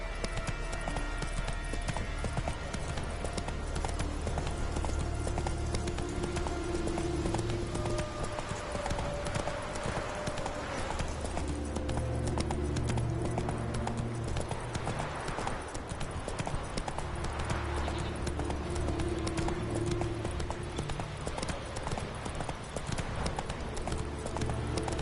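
Hooves of the horse Roach in The Witcher 3 clip-clop in a steady, even gait throughout, clear and close over a constant bed of game music and ambience, with no voices.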